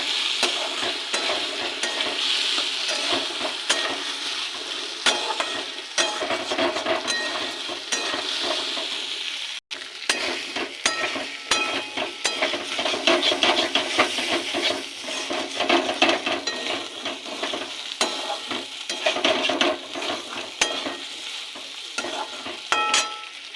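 Gathi kochu taro stir-fries with salt and turmeric in a pan, a continuous close sizzle broken by rhythmic scraping and stirring strokes and one brief pause.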